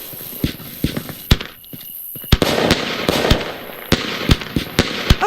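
A 149-shot compound firework goes off in the video game Fireworks Mania as a rapid run of sharp, loud bangs. There is a brief hiss and lull before the shots resume in quick succession.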